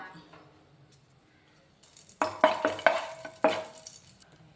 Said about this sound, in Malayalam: ഇനി എണ്ണ ഒന്ന് ചൂടായി വരുമ്പോൾ നമുക്ക് ഒരു കഷ്ണം പട്ടയും 1 ഏലക്കയും 2 ഗ്രാമ്പും കൂടെ ചേർത്തൊന്ന് പെട്ടെന്ന് മൂപ്പിച്ചെടുക്കാം